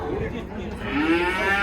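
A cow lows at a livestock market, one long rising moo swelling near the end over the steady background noise of the market crowd.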